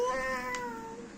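A small child imitates a cat's meow with one drawn-out, whiny meow, faint and close, with no other sound.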